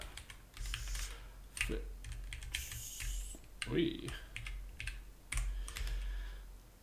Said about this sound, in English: need to get used to this keyboard. It's slightly different from the one in my other office